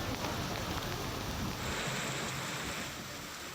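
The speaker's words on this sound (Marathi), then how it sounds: "मोठ्या प्रमाणात अवकाळी पाऊस पडतोय" Heavy unseasonal rain pours down in Maharashtra, a dense, steady hiss of falling water that holds at an even level throughout.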